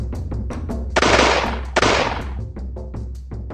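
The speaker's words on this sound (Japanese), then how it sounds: "鉄砲隊撃て。" A volley of matchlock guns fires as two dense, crackling bursts of many overlapping shots that rise and decay, with scattered single pops around them and no talking.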